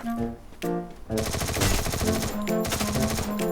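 Rapid automatic gunfire in a first-person shooter game, loud bursts of rattling shots with short gaps between them, continuing steadily over a few seconds.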